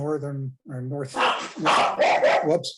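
A dog barks several times in quick succession near the start, with a voice speaking over and after it during an online labor relations meeting.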